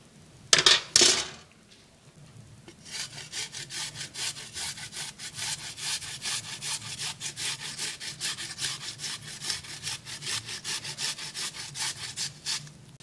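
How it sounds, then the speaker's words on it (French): Garlic grated on a grater into a stuffing for stuffed tomatoes: a couple of sharp knocks, then a long, steady run of quick rasping strokes, close and fairly loud. "un ail que l'on va râper"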